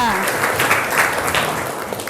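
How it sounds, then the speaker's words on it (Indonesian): Students in a culinary classroom give applause to a classmate, brief clapping at moderate loudness mixed with a voice talking over it. "Kasih tepuk tangan untuk temannya yang tadi bisa."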